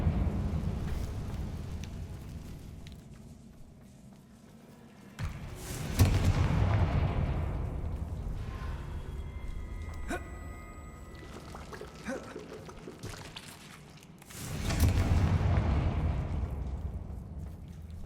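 Confringo fire spells burst in the Hogwarts Legacy video game, with two heavy booming explosions several seconds apart, each trailing into a rumbling decay over a quieter, crackling game ambience.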